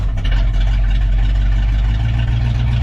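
A Dodge Warlock II truck with its first-year fuel-injected engine runs loud and rough without mufflers, a heavy deep rumble holding steady up close for the whole stretch.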